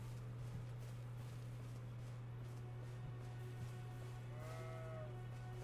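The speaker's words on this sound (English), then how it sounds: "That's a sheep." A sheep in a video game gives one short, faint bleat near the end, heard over a steady low electrical hum with no talking.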